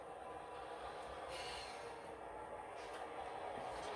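A long model train runs steadily along a switching layout, giving a soft continuous rolling rumble with faint clicks from the track, heard alone at low level.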